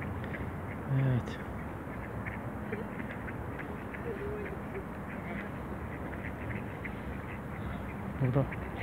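Loud duck quacks ring out twice, near the start and again near the end, over steady outdoor noise and faint voices, on a walk to the beach at Hydropark in Kyiv.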